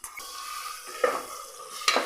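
Crushed ginger, garlic and green chilli sautéing in a pan, a soft steady sizzle with a few spoon-stirring scrapes against the metal, close and alone.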